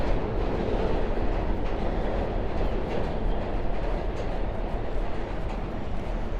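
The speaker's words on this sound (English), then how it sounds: "You could actually hear the subway go by under us." A New York City subway train rumbles by underneath, producing a steady, dense low roar with faint clattering that holds at the same loudness throughout, with no talking.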